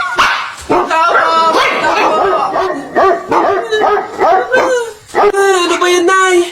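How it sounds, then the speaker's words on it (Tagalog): Several dogs bark and yelp in quick, overlapping bursts, loud and close, some barks stretching toward whines, while people talk over the noise. "Nakakatakot naman yung mga tahol na aso"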